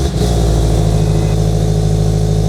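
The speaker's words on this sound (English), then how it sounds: "we are going to turn the car on, and hopefully those lights are gone" An FR-S/BRZ/86 sports car engine catches almost at once and settles into a loud, steady running drone for a couple of seconds, close by, with no talking.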